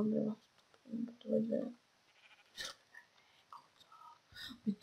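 Sheep bleating in the video game Minecraft, a few short nasal bleats in quick succession near the start, then scattered quieter game noises and another bleat at the end.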